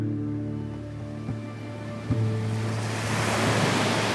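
Ocean waves wash onto a beach in southwest Turkey, a steady broadband surf roar that swells louder toward the end, with a low constant hum underneath and no voices.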